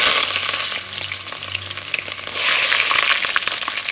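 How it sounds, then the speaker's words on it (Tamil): Oil poured into a hot, dry pan for mutton gravy sizzles and crackles steadily up close, with a brighter burst of frying partway through. "இப்போ சட்டி காஞ்சி போச்சு, எண்ணெயை ஊத்த போறோம்."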